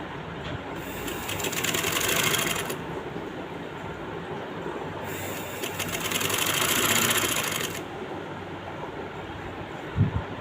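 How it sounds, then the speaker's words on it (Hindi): Electric sewing machine stitching the leg hem of a simple kameez, running in two sustained bursts of rapid whirring with quieter pauses between them, close and clear with no talk. "एक पाँव की सिलाई लगा रही हूँ मैं, ठीक है।"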